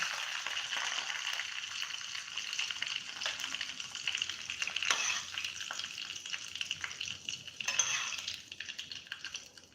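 Steady, bright sizzling of hot oil tempering poured over potato dhokla, crackling continuously with a couple of louder bursts, close by and with no talking.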